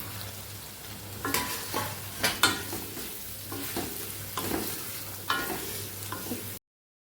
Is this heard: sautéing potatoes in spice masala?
yes